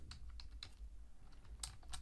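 Fast, light clicking of keys on a computer keyboard as text is typed, steady irregular taps close by over a faint background hum, no voices.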